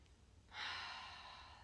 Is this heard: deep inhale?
yes